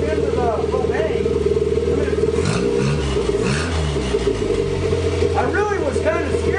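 An engine fuelled through a propane setup idles and then rises and falls through several quick throttle blips, the revs climbing and dropping in short sweeps, with a person talking over it.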